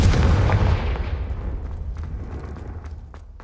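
The Confringo spell cast in the video game Hogwarts Legacy, a loud booming explosion that hits at once, then rumbles and fades over a few seconds with faint crackles trailing off.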